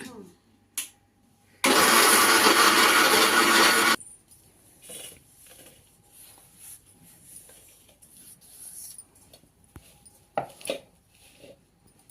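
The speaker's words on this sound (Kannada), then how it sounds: "ಇವನ್ನೆಲ್ಲ ಮೂರೂ ಮಿಕ್ಸಿಗೆ ಹಾಕ್ಕೊಂಡಿದ್ದಲ್ದ ಬೆಲ್ಲ ಹಾಕಿ ಮಿಕ್ಸಿ ಹಾಕೊಂಡ್ಬಿಡೋದು" A kitchen mixer grinder whirs loudly for about two seconds, powdering flattened rice with jaggery for a village-style laddu, then stops abruptly, leaving quiet handling clatter and light knocks.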